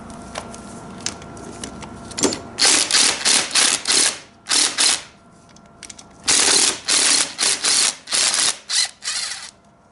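Oil pump of a KX250F engine being disassembled, with clusters of quick ratcheting clicks from a hand tool in short bursts separated by quieter pauses, close up.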